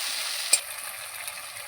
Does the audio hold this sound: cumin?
yes